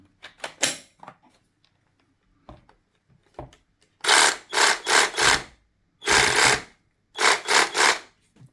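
A cordless jigsaw runs in three short, loud bursts of harsh buzzing, each a couple of seconds long, after a few quiet clicks and handling sounds.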